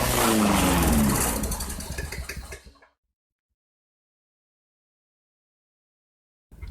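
A 2002 Sears Craftsman mower's 4.25 hp Tecumseh four-stroke engine running, a loud close chugging drone that sputters and dies out within a few seconds, followed by silence.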